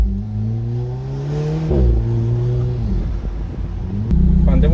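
An Alfa Romeo 4C Spider in manual mode pulls hard through the gears, its engine note climbing in pitch, dropping sharply at a shift, then building again, loud and close, with a fresh burst near the end.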